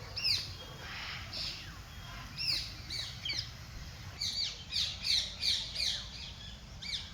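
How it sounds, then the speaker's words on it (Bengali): Indian parakeets in a zoo enclosure at the Gar Chumuk tourist centre give sharp, shrill squawks, scattered at first and then in a quick repeated run, heard from a middle distance over a quiet background. "প্রচুর টিয়া পাখি আছে, আমাদের ভারতীয় টিয়া পাখি"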